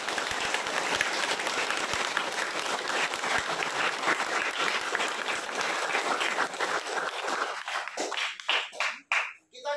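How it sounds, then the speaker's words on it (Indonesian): Lively applause fills a Catholic church to welcome a newly baptized woman, Novi: dense, sustained clapping from a congregation that thins out and breaks into scattered claps at the end. "dengan ditandai dengan aplaus yang meriah untuk Novi"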